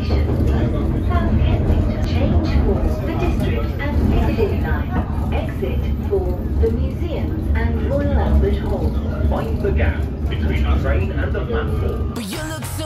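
A London Underground train runs with a steady, loud low rumble and rattling wheel noise throughout, with no talk, ending in a brief brighter burst of noise.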